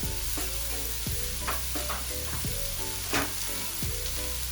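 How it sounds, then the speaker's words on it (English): Chopped garlic and onion sauté over low heat in a pan, giving a continuous sizzle with repeated stirring scrapes and a faint background hum, no talking. "I'm just gonna let it saute for 2 minutes"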